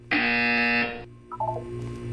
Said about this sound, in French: Vous allez entendre une sonnerie.